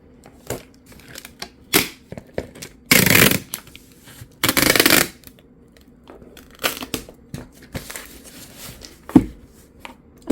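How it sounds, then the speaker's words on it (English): Packing tape is pulled and pressed onto a cardboard shipping box, with two long ripping screeches of tape unrolling among scattered crinkles, taps and rustles close by. "I'm gonna tape her up."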